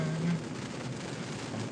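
Rain pours steadily on an evening outdoors, a dense even hiss heard alone and close, with a brief low hum at the very start.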